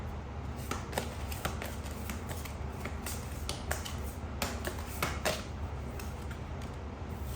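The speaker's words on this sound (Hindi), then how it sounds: "we need one card eight one time, तो लेट्स टेक वन कार्ड" Tarot cards are shuffled and drawn with soft, close riffling and light flicking taps, a quiet, steady papery rustle with small snaps throughout.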